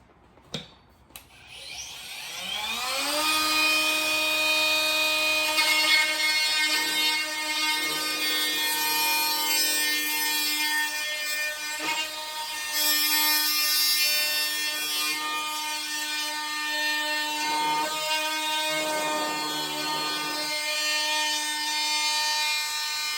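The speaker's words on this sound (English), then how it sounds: "So I can turn on my multi-tool now." An oscillating multi-tool cutting the corners of a laminate board held in an angle jig, starting with a few clicks then a sustained close buzzing whine that shifts slightly in pitch as the blade bites, with no talking.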